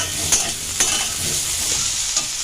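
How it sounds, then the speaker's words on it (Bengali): Brinjal frying in oil with green chilli in a pan over medium flame, a steady close sizzle with a few sharp stirring scrapes of a spatula, no voices. "বেগুনটা পুড়ে গেলে ভালো লাগবে না বেগুনটা ভালোভাবে ভাজা হোক"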